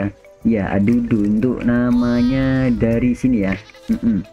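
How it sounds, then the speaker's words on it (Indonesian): An albino goat bleats in the video game Raft Survival, a close, drawn-out bleat running through the middle of the clip while someone talks over it before and after. "ada kambing satu lagi"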